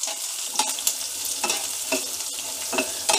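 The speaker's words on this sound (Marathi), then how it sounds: "कांदा देखील आपल्याला थोडासा असं मऊसर होईपर्यंत भाजायचं आहे।" Onion and garlic fried together in a pan, with a bright, loud, steady sizzle and a few soft stirring scrapes; no talking.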